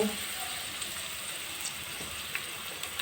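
Chopped onions frying in oil in a kadhai make a steady, faint crackling sizzle throughout, with occasional louder pops and no talk.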